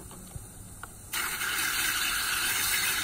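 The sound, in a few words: water rinsing paint off hand tools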